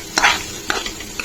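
A spoon stirring dal cooking in a pot, with a few distinct scraping strokes close by and a light sizzle in between.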